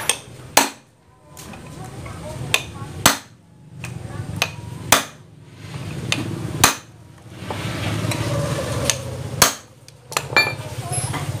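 Sharp, loud metal hammer strikes driving bolts on a Honda Wave 100 motorcycle starter: about nine separate blows at uneven intervals, with workshop noise between hits.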